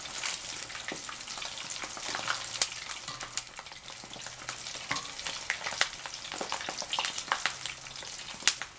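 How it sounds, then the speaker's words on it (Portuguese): A large rolled pork belly, torresmo de rolo, fries in hot oil, giving a dense, steady sizzle dotted with sharp crackles and pops, close and continuous with no voices. "Essa vai demorar um pouquinho a mais para fritar,"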